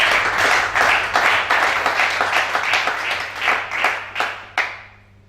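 A church congregation clapping in unison at a worship service, a steady rhythm of roughly a dozen loud claps over several seconds, ending with a final sharp clap before stopping.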